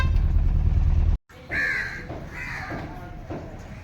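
Crows caw several times in harsh, repeated calls, nearby and fairly loud, following a brief rumble of traffic that cuts out.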